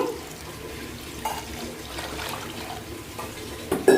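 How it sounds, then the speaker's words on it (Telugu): Water pours and splashes into a pot continuously, a low watery rush with a louder clunk right at the end. "ఇలాగా కొంచెం నీళ్ళు పోసేస్తున్నాను"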